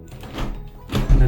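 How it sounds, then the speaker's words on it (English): A suite door is unlocked by turning its dial clockwise and then opens, heard as a few soft thunks and a rising rumble and clatter toward the end, close by with no talk. "and then the door opens."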